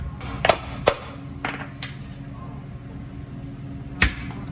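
A pry tool clanks and knocks against the rear differential cover of a Ford F-150 pickup, giving several sharp metallic strikes spaced over a few seconds above a steady low background hum in a garage.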